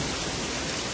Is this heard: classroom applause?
no